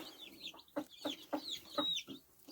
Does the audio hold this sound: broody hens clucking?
yes